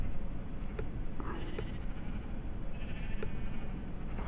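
Sheep bleating in the video game Minecraft, a few short bleats over a dense, noisy background while someone talks quietly.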